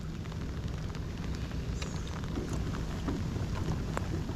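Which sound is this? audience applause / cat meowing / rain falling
rain falling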